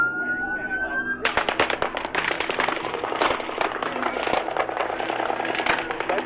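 Rapid rifle gunfire during the Las Vegas shooting: a long, dense run of sharp cracks that starts abruptly and does not let up, loud and echoing, with a siren-like tone just before it.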